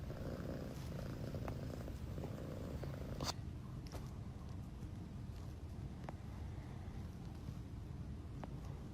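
A pet cat named Margot purring, a soft continuous rumbling purr close by for the whole stretch, with a sharp click near the start and a few faint taps.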